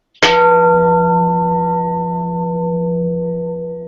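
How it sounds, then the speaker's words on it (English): A gong is struck once with a sharp attack, then a deep, shimmering metallic tone rings on and slowly decays over several seconds, loud and close, with no talking. "Let me get the gong."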